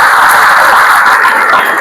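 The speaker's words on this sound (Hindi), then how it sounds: "एक बार जोरदार ताली हम सबके लिए।" Audience applause after a talk on stress management through the Bhagavad Gita: dense, steady clapping from a crowd, loud and continuous for the whole stretch, with no talking over it.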